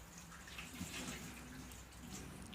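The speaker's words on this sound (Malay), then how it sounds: "saya tuang keluar air garam tadi" Salty brine poured out of a container after soaking Chinese cabbage for three hours, a steady, fairly close rush and splash of water running for a few seconds with no break.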